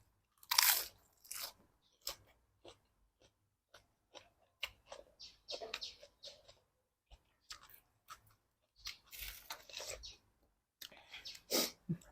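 Crisp salad being chewed in close-up, with loud crunchy bites and steady mastication coming in bursts between quiet pauses, eaten alongside a spicy Thai khanom jeen noodle and cockle salad.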